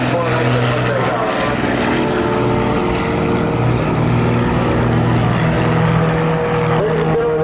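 Propeller aircraft of the Northern Lights demonstration team taking off in diamond formation at a 1997 military air show at Quonset Air National Guard Base, a loud, continuous engine drone with a steady droning hum throughout.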